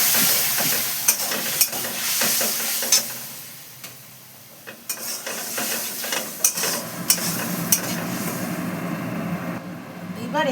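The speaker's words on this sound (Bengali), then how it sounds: "মশলার বাটিটা একটু গরম জল দিয়ে দিলাম" Hot water poured into a pan of spice paste frying in oil for a young jackfruit dish, giving a loud, steady sizzle and hiss with stirring scrapes. There is a brief softer lull partway through before the frying noise swells again.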